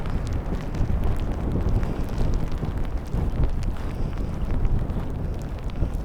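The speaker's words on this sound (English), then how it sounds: "Hopefully the wind noise is not too bad because as we get closer to the water it gets windier and windier." Steady, heavy wind buffeting a microphone near the water's edge, a constant low roar with gusty fluctuations throughout and no voices.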